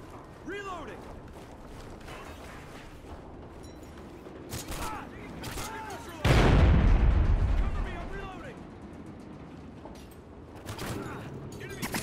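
Gunfire in the shooter Call of Duty Ghosts, with scattered shots and one big booming blast near the middle followed by rumbling decay, while birds or whistling tones and voice chatter come and go in the background.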